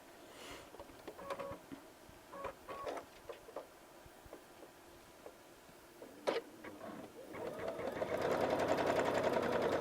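A Brother DreamWeaver XE sewing machine stitches binding, starting with scattered clicks and taps, then building into a steady, close mechanical whir of rapid stitching near the end.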